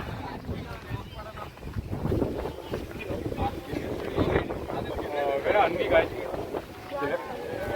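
Steady wind buffets the microphone on the Shivagange hill trek, a continuous rough rumble that swells and eases, with crowd bustle faintly underneath.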